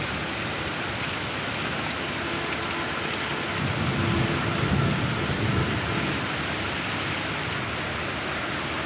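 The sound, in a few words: thunderstorm with heavy rain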